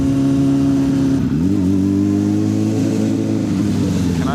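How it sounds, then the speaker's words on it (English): A 600cc Suzuki Bandit motorcycle engine revs loud and close, its tone dropping and then climbing steadily as it pulls along a road. "Good day to own a bike."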